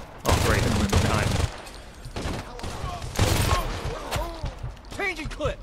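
Heavy gunfire erupts in the heist shooter Crime Boss: Rockay City, loud bursts of rapid shots coming in waves, with voices shouting between the volleys.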